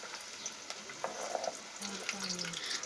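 Panch phoron spices crackle in hot oil in a pan, a quiet, close sizzle with small pops and light stirring, faint overall with a brief low hum.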